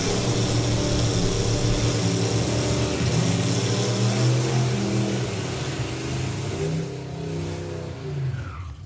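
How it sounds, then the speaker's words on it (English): A Crossfire Camaro drag car does a burnout at a nostalgia drag racing meet, its engine roaring loud and close with steady high revs and tire-spinning rumble before easing off slightly near the end. "So the Crossfire Camaro and a young lady that has really got the hang of the burnouts now."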